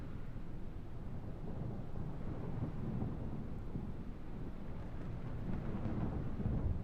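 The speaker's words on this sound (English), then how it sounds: "I made it so the storm is off in the distance and not over us." Low, rolling rumble of a distant thunderstorm with rain and wind ambience in Microsoft Flight Simulator 2020, a steady dark wash of sound that swells slightly without any close cracks.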